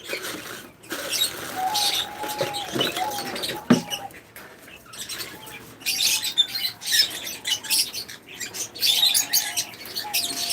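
Pet birds on a farm chirp and tweet in scattered bursts, with light fluttering and pattering nearby and soft calls rising and falling throughout.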